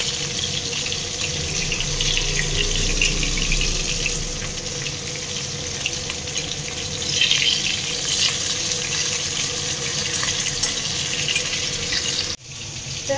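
Bata fish frying in a pan, a steady broad sizzle with a watery hiss that holds throughout, then a brief sharp break near the end.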